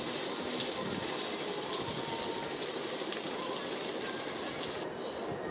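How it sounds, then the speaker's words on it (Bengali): Water pours steadily into a pan of egg and potato curry, a dense rushing gush that runs without a break for several seconds before easing slightly at the end, close and unaccompanied by talk. "আমরা জল অ্যাড করে দিব।"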